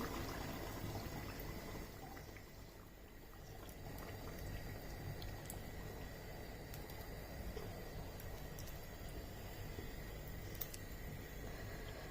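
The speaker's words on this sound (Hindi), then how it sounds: "अब यहाँ पर पानी डाल देना है।" Water poured into a pot of chicken curry (chicken salan) cooking on a stove, a steady bubbling, liquid wash running close and fairly quiet for the whole stretch, with no voices over it.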